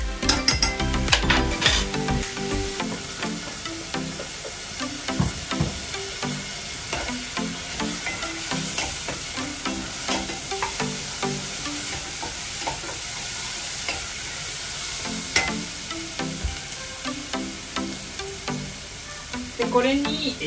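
Garlic frying in hot oil in a pan while being stirred, with a dense steady sizzle and frequent scraping strokes throughout, close and sustained.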